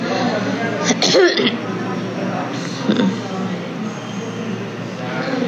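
A woman coughs harshly once while talking on a TikTok live-selling stream, a short explosive burst set among steady chatter and background noise.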